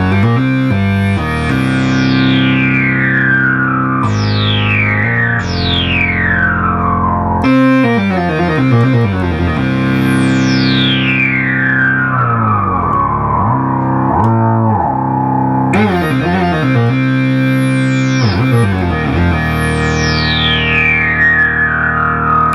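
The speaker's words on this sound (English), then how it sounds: "You're going to hear the filter do the saturation thing, which is what I refer to as the early Minimoog tone." Restored Minimoog synthesizer plays sustained tones with sweeping filter that saturates into a gritty, distorted growl, repeated descending swoops and resonant sweeps, loud and continuous with no talk.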